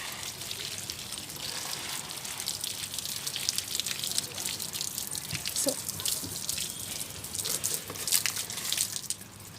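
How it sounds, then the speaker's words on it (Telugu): Water trickles and drips steadily nearby as it drains through a rose plant pot, soft irregular patters and splashes continuing throughout. "చూడండి వాటర్ అయితే దిగిపోతున్నాయి"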